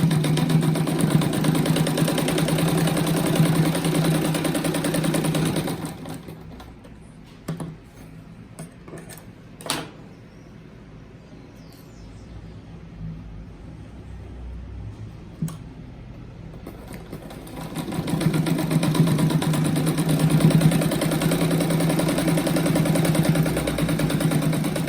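A sewing machine runs in sustained whirring bursts while stitching rabbit-shaped placemat pieces, with a quiet pause full of small clicks and taps between the two runs.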